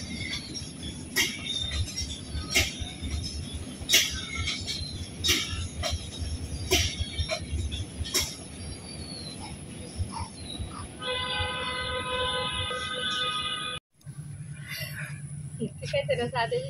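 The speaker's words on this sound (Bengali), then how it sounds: "ধান ক্ষেতের উপরে দেওয়া যাইতেছে ট্রেনটা মনে হইতেছে।" A train crosses over rice fields with a steady low rumble and rhythmic clacking wheels. A tonal horn-like blare sounds near the end, and faint voices can be heard in the background.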